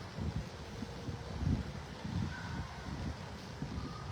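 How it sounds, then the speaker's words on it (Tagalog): Low, blustery wind rumbles against the microphone outdoors in Quezon City in uneven gusts, fairly quiet and steady throughout. "Medyo may hangin."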